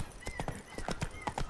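A horse gallops in The Witcher 3: Blood and Wine, giving a quick, rhythmic run of close hoof clip-clops over about a second and a half, with faint snorting and no talking.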